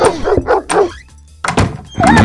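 An angry dog barks in the Neighbours From Hell video game, several sharp, loud barks close by with a short quiet gap between the bursts and no voices over them.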